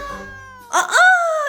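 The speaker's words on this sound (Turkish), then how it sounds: "kapımıza yavru kedi bırakmışlar Elif tatlılığına bak." A small kitten left at a house's front door gives two short high meows in quick succession, close and clear, after a faint tonal hum.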